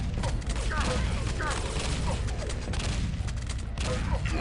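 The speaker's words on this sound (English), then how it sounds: "Machine gun sucks." Rapid machine gun fire in the arena shooter Quake 3, a dense, continuous rattle of shots mixed with game effects and announcer-style voice sounds throughout.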